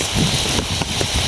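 Heavy rain driven by strong wind during a storm pours down outdoors in a steady, dense broadband wash with faint gust-like swells, close and continuous for a brief stretch.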